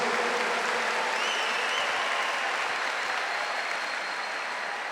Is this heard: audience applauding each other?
yes